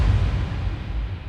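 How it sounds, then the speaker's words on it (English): A cinematic hit from an accent sound library lands as one heavy, booming impact with a dense low-end thump, then a short rumbling tail that fades over about a second. "Next, I'm adding a hit sound from the accent folder."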